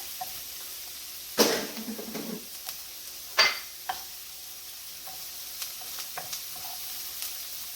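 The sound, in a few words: ginger added to sizzling keto cauliflower fried rice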